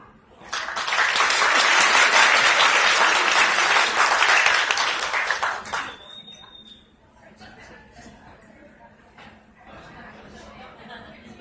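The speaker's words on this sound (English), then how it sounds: "one more round of applause" Crowd at a comic convention bursts into loud, dense applause lasting about five seconds, then it fades to a quieter room with a brief whistle-like tone and faint background murmur.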